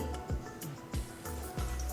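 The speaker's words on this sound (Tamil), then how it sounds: "1/4 கப் தண்ணி." Water splashes and gurgles into a pot in short pulses, close by and fairly soft.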